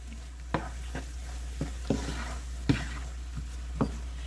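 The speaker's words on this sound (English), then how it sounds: "So I'm just going to stir this all up." A spoon stirs Trader Joe's rice through a one-pan meal, producing a soft bed of sizzle broken by about eight scraping knocks at an irregular, unhurried pace, close and fairly quiet.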